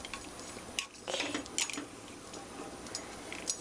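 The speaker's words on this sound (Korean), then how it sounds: "가끔씩 이렇게 저어주셔야지 안 그러면 면끼리 붙으니까요" A utensil clinks and scrapes against a pot while fettuccine noodles are stirred in boiling water, a few sharp taps and soft scraping strokes over a quiet bubbling background, with no talk.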